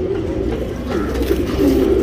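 A male Surmai Pilanka tournament pigeon coos close by in soft, repeated throaty bursts over a steady low background hum, with no talking.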